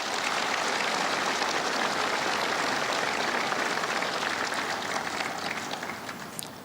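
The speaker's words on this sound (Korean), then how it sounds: "여러분, 이분들께도 따뜻한 위로의 박수를 부탁드립니다." A large crowd at a national Memorial Day ceremony applauds the bereaved families, a dense, sustained wash of clapping that holds steady and then slowly fades toward the end.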